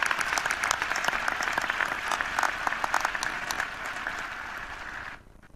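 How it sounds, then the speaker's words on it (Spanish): Audience applause for public health teams at a women's health program launch in San Juan, a steady dense clapping that holds for about five seconds before tapering off near the end. "Merecido reconocimiento y aplauso para cada uno de ustedes."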